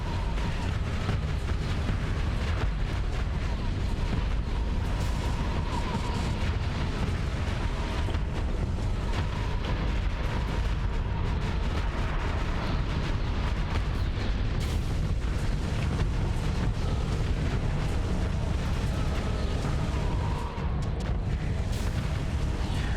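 Sustained barrage of weapons fire from a concentrated fire special ability in the space combat game Starsector, a dense continuous rumble of booms and bursts that runs loud and unbroken throughout, with no pauses.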